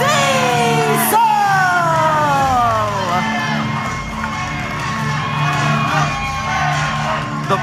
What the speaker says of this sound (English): the crowd is letting him hear their love for the big man